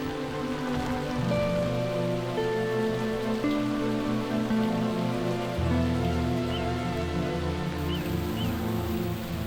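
Heavy rain falls on sand dunes and wetland beyond a border fence where water birds nest, a constant even hiss of drops that runs throughout beneath soft sustained tones.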